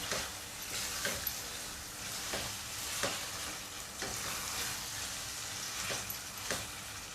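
Prawns coated in biryani masala sizzle in a pan while being stirred, a continuous close frying hiss punctuated by regular scraping strokes about once a second.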